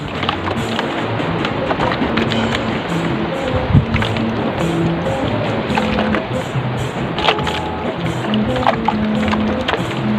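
Boat passing on open sea during a fishing trip, a steady engine drone with water wash that holds at constant loudness throughout, with no talk over it.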